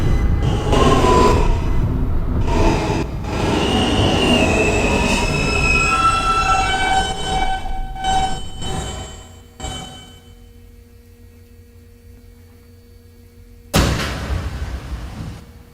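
R160 N subway train on the Astoria line, running at speed with loud, sustained wheel squeal and rumbling rail noise that drops off sharply, leaving a quiet hum before another burst of train noise near the end.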